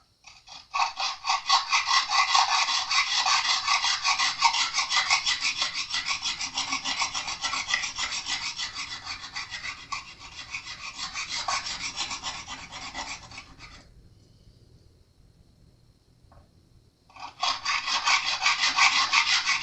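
Continuous rasping of a file scraping back and forth over a high guitar fret to level it, close and loud, pausing briefly before resuming.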